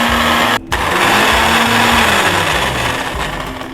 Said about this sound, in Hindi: अब मैं इस पे कैप दे देती हूँ और इसको करने जा रही हूँ मैं ब्लेंड